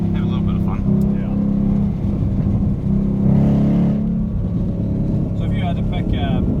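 A Ford Mustang GT engine drones loudly and steadily in second gear from inside the car, a continuous low roar with slight rises in pitch, as voices murmur beneath it.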